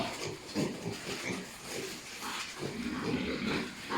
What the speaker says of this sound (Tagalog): Ito po mga ito ay mga pre-starter piglets pa rin.